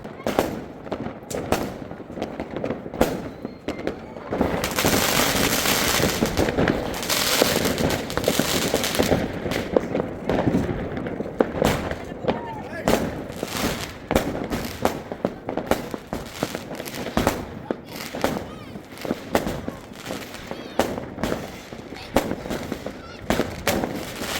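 Firecrackers crackle and pop in rapid bursts with booming fireworks, loud and continuous over a long stretch in Germany, with faint voices in the background.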